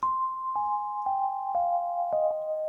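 Piano notes of the pattern, struck singly about every half second, each note stepping slightly lower as it rings and overlaps the last, close and clear with no talking.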